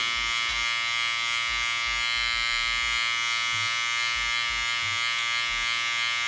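Electric hair clippers buzz steadily and close by, a continuous droning hum with slight shifts in pitch as they cut, no voices.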